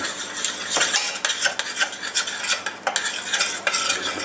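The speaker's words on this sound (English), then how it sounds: "You do need to stir it for at least a couple of minutes to cook that out." A spoon stirs a roux in a pan for lasagna, giving repeated scraping, clinking strokes against the metal over a soft bubbling, close and fairly loud, with no talking.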